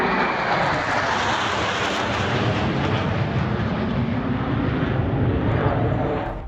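A fighter jet passing overhead during an air force exercise above a highway emergency landing strip, a loud, steady, broadband roar that fills the clip and fades slightly at the close.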